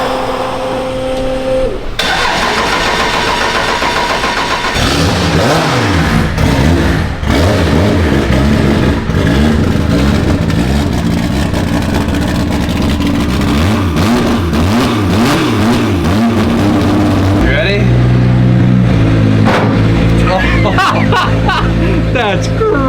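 A 1000 HP JZ-engined pro drag car starts up and revs hard, its harsh engine note sweeping up and down in repeated loud blips close by, settling into a rough idle near the end.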